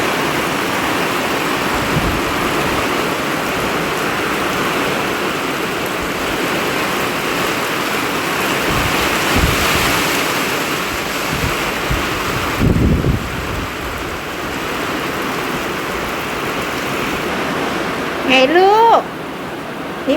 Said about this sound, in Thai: บรรยากาศฝนตกน่ะฮะ